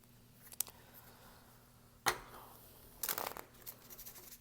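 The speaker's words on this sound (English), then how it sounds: "This deck is low-key kind of hard for me to shuffle right now because it's still fairly new, so it's like stiff." A new, stiff deck of cards being shuffled, heard as faint papery riffles and snaps in a few short bursts separated by quiet gaps.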